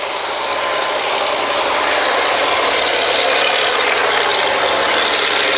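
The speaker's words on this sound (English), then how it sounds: "Got two mud pumps going." Two mud pumps running on a historical kelly drilling rig, a loud, steady mechanical roar with continuous rattling and grinding texture, close by and unbroken, with no talk.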